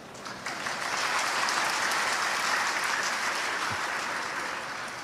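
An audience claps at a literary talk, a thick continuous roar of applause that rises quickly after a brief start, holds steady and fades only slightly toward the end.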